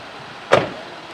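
A car door opens with a single short, sharp mechanical thunk, close and fairly loud, followed by a brief fading rattle in an otherwise quiet setting.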